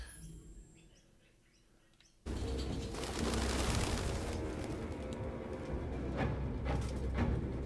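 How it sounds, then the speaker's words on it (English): Pigeons cooing in the video game Detroit: Become Human, faint birdsong at first, then a sudden loud burst of fluttering wings and rustling that fills the rest, close and busy. "Goddamn fucking pigeons!"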